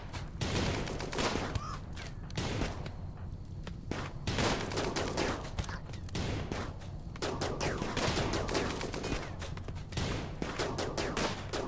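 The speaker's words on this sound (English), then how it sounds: "What does he have? Oh, LMG." Light machine gun fire in RimWorld: dense, continuous bursts of rapid automatic shots crackling loudly throughout, with brief gaps between volleys and no talk.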